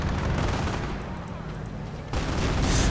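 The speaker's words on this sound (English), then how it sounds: "Calliope barrage is flying in as well, causing horrendous damage" A Calliope rocket barrage bursts in rapid, overlapping explosions in the Company of Heroes video game, a dense rumbling fusillade that swells louder near the end.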